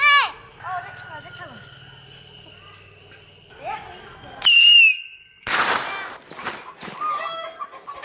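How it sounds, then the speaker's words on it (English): Firecrackers crack and pop during Spring Festival celebrations in a remote village on the China–Myanmar border, with a whistling rocket, sharp bangs and a rooster crowing nearby. "There's still firecrackers going off."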